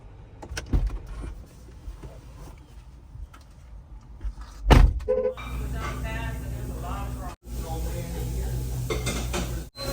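A busy 24-hour breakfast diner in Memphis, with the stove right by the seating, gives off clattering dishes, pans and cutlery over a steady kitchen hum, while people talk nearby.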